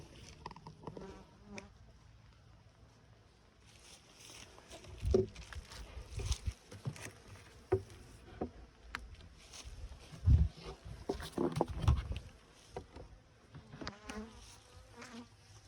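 Honey bees swarm and buzz around open beehives being closed back up during a commercial-scale inspection, a steady dense hum with louder close passes and handling bumps.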